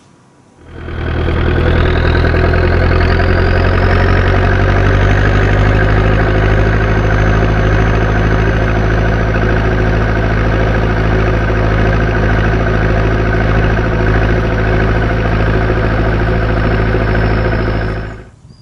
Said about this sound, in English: he's got a Massey 698 turbo with a 4236. Listen to this.